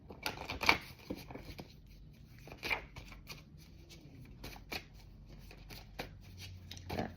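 A deck of tarot cards being shuffled by hand, with repeated soft riffling and slapping bursts at irregular intervals, close and fairly quiet, with no talking.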